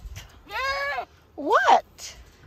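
A baby goat on a homestead bleats twice, close and clear, with two wavering cries separated by a short pause against quiet surroundings.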